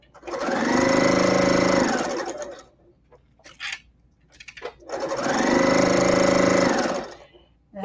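A Bernina Bernette 08 sewing machine runs in two loud, close bursts of rapid stitching, with quiet pauses and brief talk between them.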